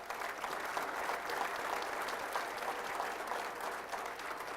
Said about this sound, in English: how about a big round of applause to all of them on your screen right now